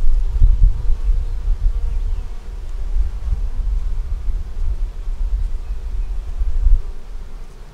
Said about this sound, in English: That bee there on my arm, as y'all can see on my arm, she's not trying to sting me.